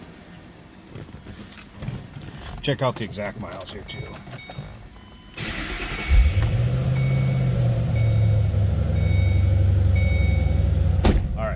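A 2006 Ford Mustang Roush coupe's engine starts partway through and settles into a steady, loud, close idle that continues to the end, with someone talking before and over it.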